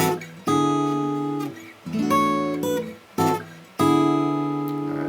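Clean electric guitar notes picked in short phrases, each ringing out before the next group, with brief pauses between.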